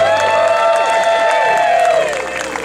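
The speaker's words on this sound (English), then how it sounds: "Give them another round of applause." A pageant audience cheers and applauds loudly for a Greek goddess contestant, with sustained whoops and shouts over steady clapping that tapers off slightly at the end.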